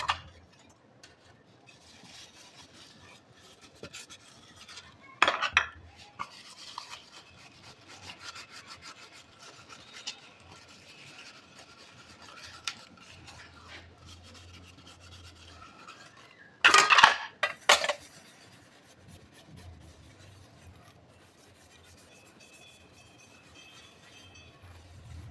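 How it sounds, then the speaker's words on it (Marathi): Pots and utensils being scrubbed clean during kitchen washing, with faint intermittent rubbing and scraping and two brief louder clattering bursts, otherwise quiet, with no talking. "थोडे थोडे करून सगळे भांडे आपण घासून घ्यायचे"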